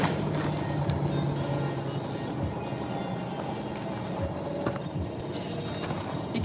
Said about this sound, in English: You can hear the washing machine is going off.